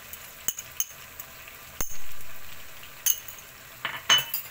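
Chicken and vegetables in a hot pan being stirred, with a soft steady sizzle under sharp clinks and scrapes of a utensil against the metal at irregular intervals, close up and without talking.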